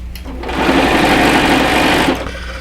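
A sewing machine stitches binding onto a quilt with a steady, fast mechanical whir that runs loud and close for about a second and a half and then stops.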